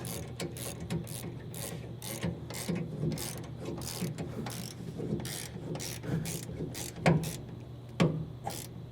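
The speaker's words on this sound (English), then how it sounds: "Using the Torx bit from earlier, I'm gonna go ahead and tighten this guy on the body mount up." A ratchet with a Torx bit tightens a body mount bolt on a Tundra pickup. It gives a quiet, rapid run of clicks with a few harder knocks toward the end and no talk.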